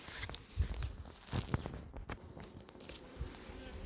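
Honeybees gathering at an evening water source beside the hives of an apiary, a soft insect hum with scattered light crackles and a few faint thumps, all fairly quiet and close.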